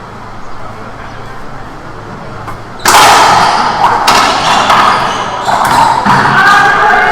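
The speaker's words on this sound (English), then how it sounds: "Nice pinch from Rios." In a men's doubles match at the 2016 Racquetball World Championships, a pinch shot sends the ball cracking off the court walls, a sharp loud impact followed by echoing bounces and squeaks in a reverberant indoor court.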